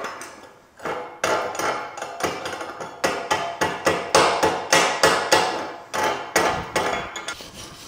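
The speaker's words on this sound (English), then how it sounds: "Let's see how the slag does." Slag being chipped off a fresh weld laid by a cheap Amazon welder, a rapid series of sharp metallic hammer taps in irregular bursts, close and loud with brief pauses between runs.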